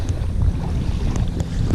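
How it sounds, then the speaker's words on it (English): Gusty wind buffets the microphone with a low, steady rumble at a Michigan lake, and faint water sounds are underneath. "on this fine windy afternoon"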